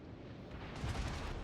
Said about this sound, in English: He lands a bunch of shells